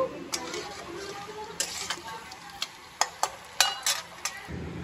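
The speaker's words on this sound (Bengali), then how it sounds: "দিয়ে দিলাম তেলে আলু, আমাদের বেশি লোক তাই বেশি আলু। এগুলোকে একটু লাল লাল করে ভেজে নেব।" Potatoes fry in oil tempered with cumin, a dried chilli and a bay leaf, giving a soft sizzle beneath a series of sharp ticks and clicks from a spoon working the pan.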